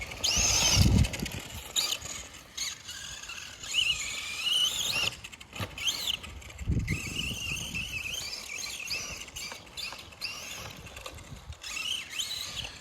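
A Carisma M10DB radio-controlled car runs a lap of a race course, its electric motor whining and rising and falling in pitch as it speeds up and slows, fairly faint throughout with short louder bursts.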